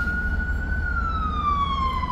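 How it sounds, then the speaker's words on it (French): An ambulance siren sounds loud and steady nearby, its single tone sliding gradually downward in pitch as it passes, over a low background rumble of traffic. "mes excuses pour le bruit de cette ambulance"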